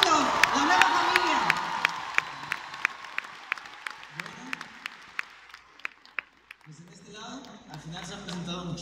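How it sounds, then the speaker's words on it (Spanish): An audience at the Auditorio Nacional claps for the launch of a new KROMASOL product, with rhythmic, evenly spaced claps, scattered cheers and whoops, and people talking over the applause as it fades near the end. "un fuerte aplauso para este nuevo producto, la nueva familia"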